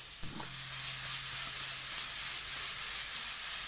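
A finely sliced medium onion frying in melted lard gives off a loud, steady sizzle and hiss close up, with a brief clatter at the start and no one speaking.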